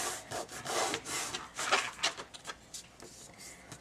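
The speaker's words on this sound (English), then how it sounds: "give it a nice burnish with your bone folder" Bone folder burnishing the edges and corners of a chipboard book cover, a series of dry rubbing and scraping strokes on board and paper, close and fairly quiet, alone without talk.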